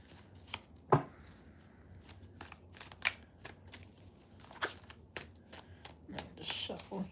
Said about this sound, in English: Just shuffle here.